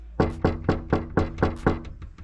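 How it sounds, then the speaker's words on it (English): Someone knocks on a door, about nine firm, evenly spaced raps in quick succession, close and clear with no talking. "Knock a little bit harder."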